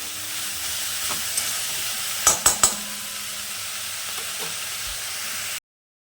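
Leafy greens fry in a pan under a steady, even hiss of sizzling, joined midway by three sharp metallic clinks in quick succession and a couple of faint taps, before cutting abruptly to silence; no talking.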